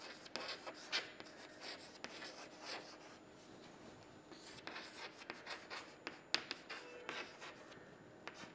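A pen scratches across paper, writing out a physics lab result for a screw gauge experiment, with quiet, irregular strokes and taps heard up close and faint throughout.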